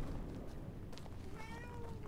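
Cat meowing faintly in the Resident Evil Revelations 2 video game, a short rising meow near the end over a steady low rumble of game ambience.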